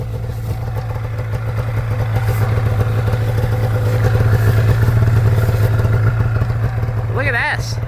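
A snowmobile engine runs in a blizzard, a loud, steady low drone with rattling clatter up close, the sled's engine continuous throughout with wind noise over it.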